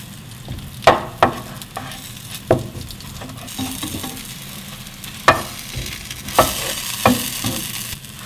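Eggplant slices pan-frying in oil, a steady sizzle broken by several sharp clacks and scrapes as the pieces are flipped, close and fairly loud with no talking.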